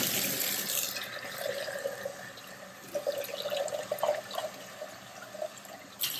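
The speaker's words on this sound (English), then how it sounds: "There's some soap and water, and I'm going to scrub it a bit" Water runs into a sink while a pot is scrubbed with soap, a steady tap-like splash with brief scraping and sloshing bursts, nearby and moderately quiet, with no talking.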